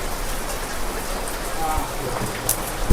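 Steady rain pours down close by, a dense continuous patter with an occasional louder drip or knock.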